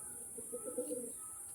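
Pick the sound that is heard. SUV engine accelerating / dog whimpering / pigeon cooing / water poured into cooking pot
pigeon cooing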